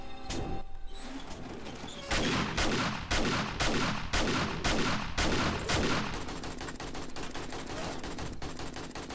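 Gunfire in the video game 7 Days to Die: a sustained run of loud, sharp automatic shots in rapid bursts with short gaps, ending in a denser continuous stretch of fire, no talking over it.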